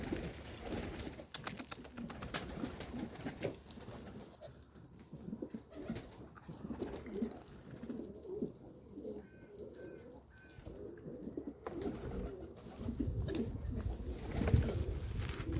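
Low homing pigeon cooing murmurs through the loft, mixed with shuffling and scattered bird noises, fairly quiet and continuous, with a faint dog-like whimper at moments.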